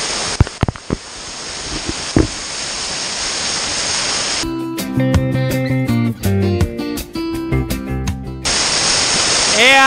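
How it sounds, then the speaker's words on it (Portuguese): Waterfalls near a grotto at a beach park send water gushing from all sides in a loud, dense roar, interrupted midway by several seconds of music before the rushing water returns. "isso é uma experiência única que tu tem aqui nessas cachoeiras lindas"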